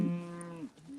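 Farm cows give a single loud, close, drawn-out moo that slides down in pitch and tails off, with faint outdoor background around it.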